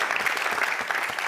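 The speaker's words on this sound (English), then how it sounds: "let's give everyone an applause for being here today" Audience at a European student pitch competition summit claps together, a brisk, even wash of many hands at close range, fairly loud and sustained.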